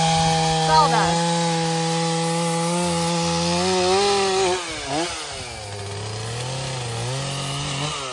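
A chainsaw runs steadily while cutting wood, its engine note rising and falling as it bites, with a voice speaking over the loud, continuous buzz.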